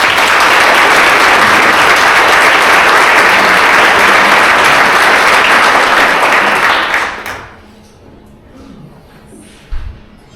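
Loud, dense applause from an audience at a board of directors installation ceremony, steady for about seven seconds before cutting off sharply to a quiet room with faint shuffling and one small knock near the end.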